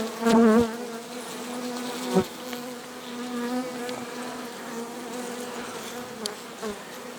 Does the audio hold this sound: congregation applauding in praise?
no